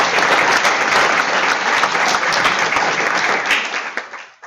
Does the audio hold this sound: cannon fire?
no